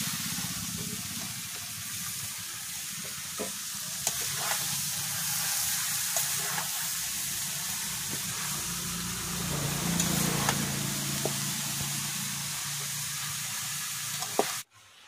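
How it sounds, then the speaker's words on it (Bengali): Steamed cabbage tipped into a hot frying pan with a broken-up fish head and oil, giving a steady close sizzle with occasional stirring clicks that continues through the whole stretch. "বাঁধাকপিটা দিয়ে দিচ্ছি"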